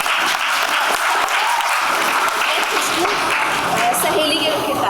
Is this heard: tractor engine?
no